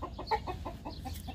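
Farm chickens roaming outdoors give a short run of soft, repeated clucks, faint and fairly close, with no talk.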